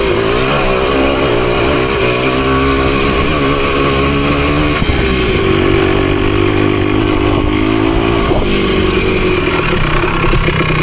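A Husqvarna PE250 dirt bike engine runs loud and close on a trail, its note rising and falling steadily with throttle changes through the whole stretch, with no talking over it.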